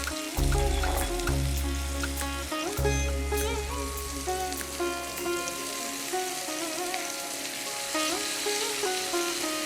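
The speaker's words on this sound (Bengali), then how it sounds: "নেওয়ার পর মাছটাকে নাড়বো" Bombay duck (loitta) fish being stirred as it fries in a pan, a dense, loud, continuous crackling sizzle like heavy rain, with a low rumble early on, close and unbroken throughout.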